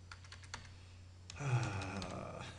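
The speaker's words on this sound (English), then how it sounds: "Let's type in those paracord" Keystrokes on a computer keyboard, a few scattered taps followed by a quicker burst of typing, close and fairly quiet over a low steady hum.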